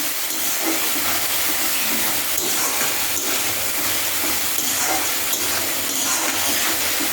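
Water poured into a hot pan of river fish and onions, a loud continuous steaming hiss and sizzle close up, steady for several seconds with no voices.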